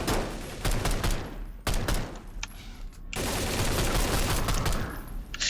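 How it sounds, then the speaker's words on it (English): Bursts of rapid gunfire from a video game, rattling in dense volleys with brief gaps, then a sustained stretch of continuous shooting. "Oh, there's some gunfire over there."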